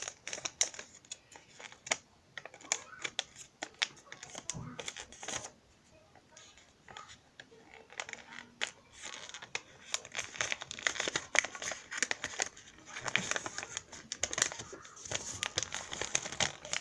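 Colored origami paper being folded and creased by hand, close crinkling and crackling rustles in irregular bursts with brief quiet pauses, no speech over it.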